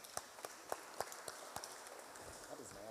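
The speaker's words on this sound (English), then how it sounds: "Let us clap for him." Applause for a person who answered a question on barter trade during a live service, heard as about six evenly spaced, fairly faint claps in a steady rhythm that fade as voices take over.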